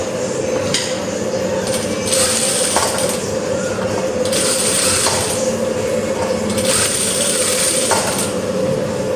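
A sewing machine stitches a somewhat unusual fabric in rhythmic bursts, each run a few seconds of rapid mechanical whirring and clicking, separated by brief pauses, close and steady.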